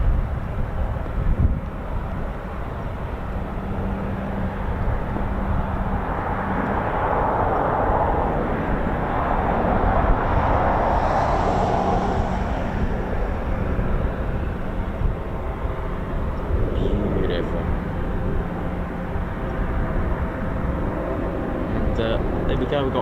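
RAF training aircraft depart from an airfield, a broad, continuous engine roar that swells and fades as they climb away, with someone talking steadily over the noise.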